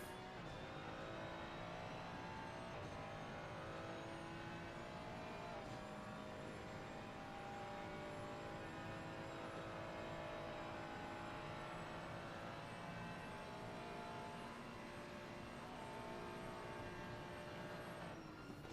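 Ferrari and German racing cars in a Donkey Kong Mountain racing video game, engines droning steadily and continuously with layered overlapping tones, loud and constant throughout with no talk.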